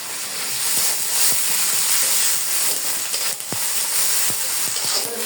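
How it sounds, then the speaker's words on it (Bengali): Ginger garlic spice paste fries in a pan, a continuous bright sizzle and hiss close up, with scattered sharp clicks of stirring over about five seconds. "পেস্টটা ভালো করে একটু ভেজে নিব।"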